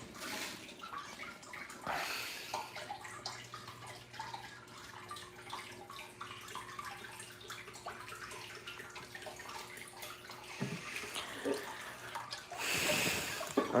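A toilet tank refills with a steady, quiet rush of running water that continues for several seconds, with a louder splashing swell near the end and no talking.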